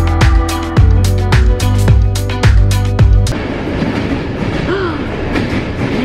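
A passenger train rolling across Bulgaria, its wheels beating a loud, steady clickety-clack over rail joints for about three seconds, then settling into a continuous rumbling roar with a faint squeal.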